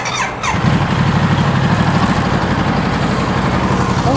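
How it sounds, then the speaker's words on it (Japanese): A Ducati DesertX motorcycle engine catches and settles into a steady, loud idle close by, with a low throbbing rumble. "ちょっとこれエンジン音聞かせてください。"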